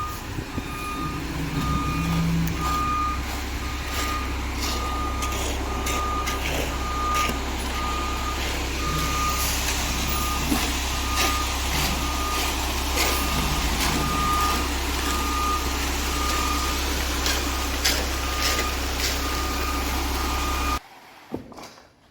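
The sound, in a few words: concrete truck reversing beeps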